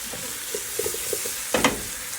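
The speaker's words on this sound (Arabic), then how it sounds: "والفراخ كده بتتشوح" Chicken sautéing in a pan for Palestinian maqluba, a low steady sizzle under faint clinks and light taps, then a louder scraping stir near the end, close and without talking.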